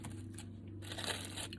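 A plastic bag, used to demonstrate how lungs deflate, is crumpled and pressed flat, giving a close, continuous crinkling rustle that swells briefly near the end.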